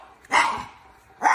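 A pet dog barks at a televised Joe Biden, two loud close barks separated by a short pause, with no talk in between.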